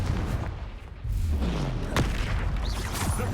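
Confringo, an explosive spell in Hogwarts Legacy, bursts with booming, rumbling blasts and a swooping whoosh, a loud dense clash of magical impacts with no talk.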